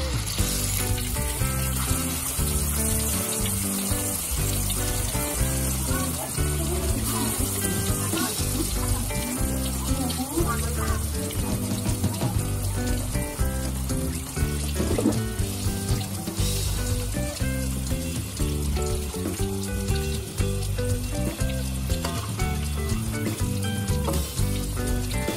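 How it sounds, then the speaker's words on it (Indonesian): Instant noodles fry as a crunchy snack in hot oil, making a loud, continuous sizzling crackle that lasts throughout without pause. "kita goreng ya"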